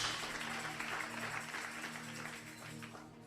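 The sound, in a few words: church congregation applause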